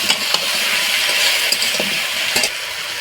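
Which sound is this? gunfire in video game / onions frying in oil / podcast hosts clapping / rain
onions frying in oil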